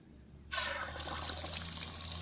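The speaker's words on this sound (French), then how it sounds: "Si je me mets là, prendre ma douche." Shower water bursts on after half a second of near silence and then streams steadily at close range, a hissing spray that stays strong and even, with no talking.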